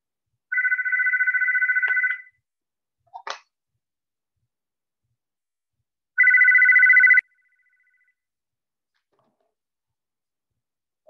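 A telephone rings twice, each a steady electronic trill of about one to two seconds, separated by a gap with a brief click, otherwise in near silence.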